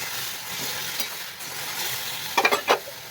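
Vegetables tossed into hot oil with fried lentil dumplings in a home kitchen, giving a steady frying sizzle that ends in a few sharp clattering stirs of the spatula against the pan.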